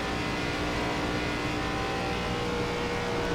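An ARCA race car engine drones loudly and steadily at high revs on the Michigan oval in the iRacing sim game, a constant, unbroken roar with no voices.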